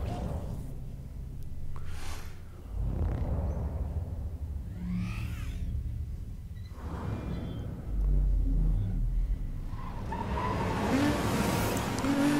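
Race cars roaring through a sprint race in the Need for Speed Most Wanted video game, with a Nissan GT-R among them; loud, continuous engine rumble with rising revs and brief tire squeals, no talking.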